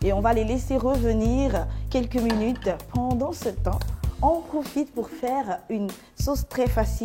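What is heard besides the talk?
None of the usual background noises is heard.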